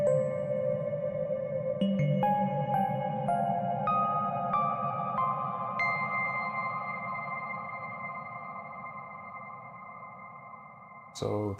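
Synth notes ring out through a Line 6 HX One dynamic hall reverb, a rising sequence of sustained tones stacking into a long shimmering wash that slowly decays, loud and close, with a sharp cutoff at the end.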